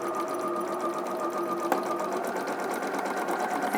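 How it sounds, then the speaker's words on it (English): A domestic sewing machine stitches fabric in a steady, continuous whirring run at close range, holding an even motor drone and rapid needle rhythm throughout with one brief click partway, no talking over it. "Carry on stitching."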